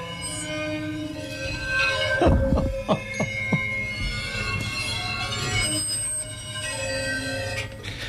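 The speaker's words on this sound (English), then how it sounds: "this is a instrument that's called a water foam" A waterphone's eerie metallic bowed tones swell and sustain with a few sharp resonant strikes ringing out, creating a haunting, unsettling texture.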